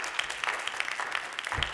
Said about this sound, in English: So our last speaker, let's give her another round of applause.